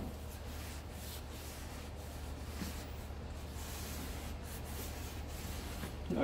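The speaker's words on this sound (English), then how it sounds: "I'm going to just try to kind of wipe off any excess here" An old sock wipes excess wood treatment off an old gun stock, giving soft, continuous rubbing and scrubbing strokes that stay faint and close, with no talk.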